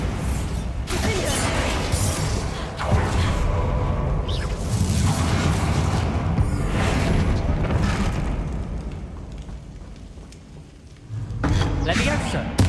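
A Confringo fire spell explodes with a loud booming burst amid ongoing combat in Hogwarts Legacy, layered over dense, continuous game effects and rumbling for most of the stretch, with a fresh blast near the end.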